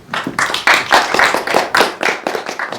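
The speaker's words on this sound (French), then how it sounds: "Applaudissements, s'il vous plaît." Audience at a live French comedy show claps in rhythmic unison, sharp synchronized hand claps in a steady beat, loud and close, with no talking over them.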